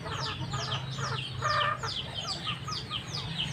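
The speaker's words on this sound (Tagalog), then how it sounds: "Itong manok na ito, oh." A backyard chicken clucks in a quick run of short, fairly close calls against a quiet outdoor background.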